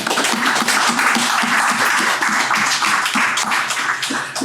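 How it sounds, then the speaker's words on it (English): A Bread and Roses 2022 event audience gives a round of applause for the founders of Lawrence History Live, loud and close, with dense rhythmic clapping sustained throughout and fading slightly at the end. "So I think we should give them a little round of applause for that."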